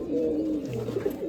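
Racing pigeons at a pigeon competition coo in low, throaty, rolling calls, close by and fairly clear over a faint background murmur.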